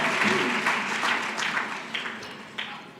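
Applause at a gala charity dinner, moderately loud and continuous at first, then thinning into scattered claps toward the end.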